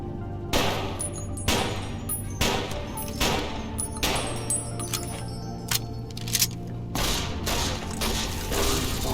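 Gunfire in Fallout: New Vegas, aimed at a robot: loud, close bursts of rapid shots in several separate volleys across the span, each with a sharp crack and ringing tail, over a steady low game hum.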